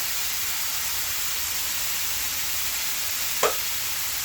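Chicken pieces fry with a steady, even sizzle in a pan while making a stovetop cheese burst pizza, with one brief sharper scrape or clink near the end and no voices.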